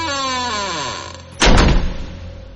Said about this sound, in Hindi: दरवाजा बंद हो गया।